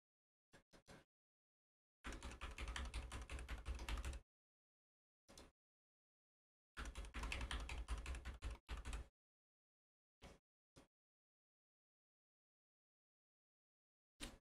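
Password typed on a computer keyboard: short isolated keystrokes, then two dense bursts of rapid clicking separated by silence, ending with a few single taps.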